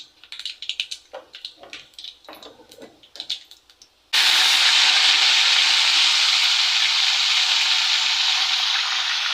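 Cumin seeds dropped into hot oil, first a few scattered crackles, then a sudden loud, steady hiss of sizzling that holds close and strong to the end, with no talking.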